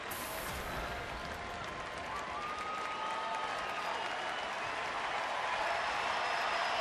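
Baseball crowd at a Tampa Bay at Texas night game applauding the pitcher, a steady wash of distant stadium clapping and cheering that swells slightly toward the end, with no talk over it.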